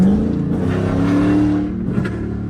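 A tuned Chrysler 300 with a 5.7 HEMI V8 and stage 2 flame and burble tune drones loudly and close as it revs, the pitch climbing and then dropping as it downshifts.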